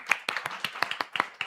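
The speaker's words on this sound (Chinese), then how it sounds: "就要再拍手一次。" An audience claps at a church youth service, a short burst of about nine sharp, fairly even claps close by, without talk.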